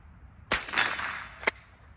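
A rimfire pistol fired at a defense range: two sharp, close shots about a second apart, the first followed by a short echoing tail.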